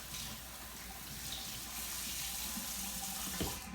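A kitchen tap runs steadily, splashing into a sink to wet a cotton tea towel, a close continuous hiss of water with a slight change near the end and no talking.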